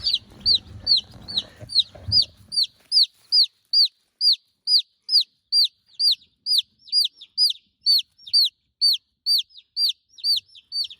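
White Brahma chicks peep in a rapid, regular series of high, shrill chirps, loud and close, with some brief rustling at the start.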